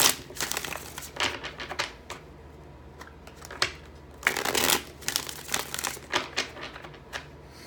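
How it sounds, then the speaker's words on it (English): Tarot cards being shuffled close up in quick riffling bursts, with crisp papery flicks and short pauses between rounds. "3 more shuffles."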